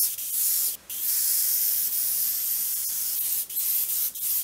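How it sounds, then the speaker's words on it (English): Airbrush spraying paint onto a Super Buu action figure, a loud close steady hiss running in long bursts broken by short pauses. "So maybe first I'll just spray this way and see if we can get some shading going on."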